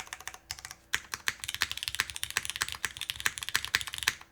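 Fast, steady typing on a Keycult No. 2 60% mechanical keyboard, with crisp, dense keystroke clicks close up, including a few heavier key presses, and no talking.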